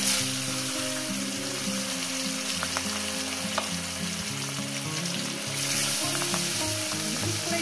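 Salted catla fish pieces fry in hot oil, producing a loud, continuous close-up sizzle with bubbling and occasional sharp pops, no speech.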